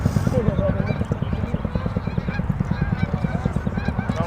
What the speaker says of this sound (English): we got a flock of geese coming by from the other direction.